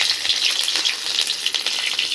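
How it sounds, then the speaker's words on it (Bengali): Dried and green chillies frying in oil in a wok, giving a close, bright, continuous sizzle with crackling pops throughout. "এবার কড়াইতে তেল দিয়ে শুকনো লঙ্কা দিলাম"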